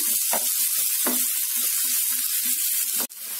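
Chopped onions fry in a hot pan with a loud, continuous sizzle, broken by soft, regular thuds and scrapes of stirring and a brief dip near the end.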